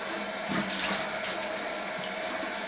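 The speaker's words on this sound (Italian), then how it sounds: "Vado a mettere un pochino d'acqua, poco poco, nel sapone." Running water streams steadily from a tap into shaving soap, a continuous close hiss and splash with no voices.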